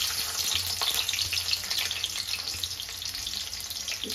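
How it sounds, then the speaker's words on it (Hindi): Onion and chili hitting hot oil in a home kitchen pan, a steady bright sizzle and crackle that runs evenly throughout, close and fairly loud with no voices. "फाइनली तेल गर्म हो गया है उसके बाद हम डालेंगे प्याज और मिर्च दोनों साथ में"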